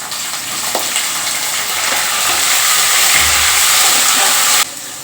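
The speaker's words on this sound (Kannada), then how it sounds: "ಈ ಟೈಮಲ್ಲಿ ನಾನು ಇವಾಗ ಈರುಳ್ಳಿ ಹಾಕ್ತಾ ಇದ್ದೀನಿ" Onions fry in hot tempering oil with lentils and chillies, a loud, steady sizzle with a soft stirring thump, heard alone.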